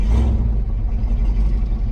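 Car engine running shortly after a cold start, a loud, close, steady low rumble idling evenly with no revs or speech.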